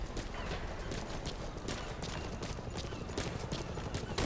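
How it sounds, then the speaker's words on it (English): Rapid bursts of gunfire from a shooting range at Mother Base in Metal Gear Solid V: The Phantom Pain crackle and pop in irregular clusters over a busy, noisy background, sounding somewhat distant and continuous. "You can hear gunfire in the background as well. That is from the shooting range."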